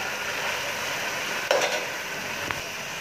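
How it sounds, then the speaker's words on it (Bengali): Beef drops into a pan of sizzling blended onion and garlic for biryani, giving a steady close frying hiss, a sharp splash-and-sizzle burst as the meat goes in, and a brief clink of the stirring spoon. "এই পর্যায়ে আমি মাংসটা দিয়ে দিব।"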